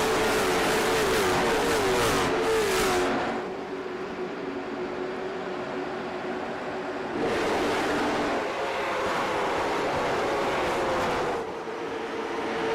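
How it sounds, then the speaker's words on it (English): Race cars roar past on a restart at Five Flags Speedway, engines droning and surging loudly in overlapping waves as the pack accelerates, with no voices. "We are racing at Five Flag Speedway once more."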